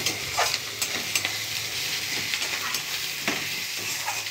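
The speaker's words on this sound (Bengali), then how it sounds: "দেখুন প্রায় হয়ে গেছে পেঁয়াজটা ভাজা" Onions frying in a pan, a continuous bright sizzle with occasional scrapes and clicks of stirring over about four seconds, fairly close and without talk.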